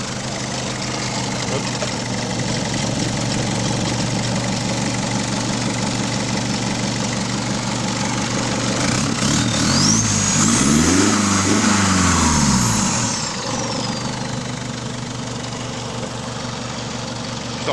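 A Mercedes 220 CDI diesel engine runs at a loud, steady, clattering idle close by, then surges briefly in a rev partway through before settling back to idle. A voice speaks one short word.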